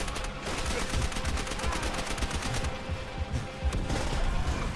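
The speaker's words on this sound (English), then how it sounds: "none of those bullets were going through that wall" Rapid gunfire against a wall in Call of Duty: World at War, fired in dense continuous bursts with a brief dip partway through and no speech over it.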